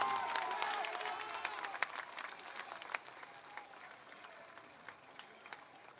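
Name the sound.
applause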